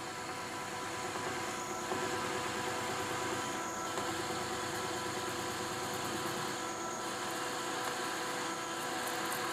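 A face mill cuts case-hardened steel with a dense, continuous whirring grind that holds steady and loud from start to finish, with no voices.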